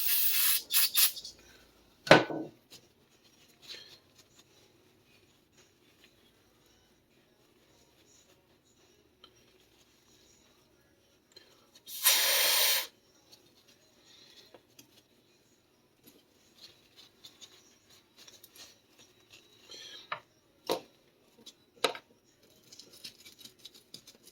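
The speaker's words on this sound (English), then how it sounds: "A little bit of brake cleaner." Brake cleaner sprays in short, loud hissing bursts onto diesel fuel injector parts from a Ford 1910 tractor, with two main blasts separated by quiet stretches of small clicks and taps of parts being handled.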